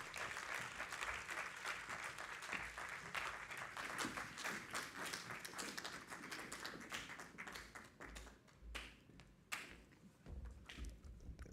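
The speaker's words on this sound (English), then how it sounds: "Please, let's welcome with a clap, Professor Victor Enchi." Steady applause from an audience welcoming a professor onstage at a university education leadership programme launch, dense overlapping claps sustained throughout, thinning slightly toward the end.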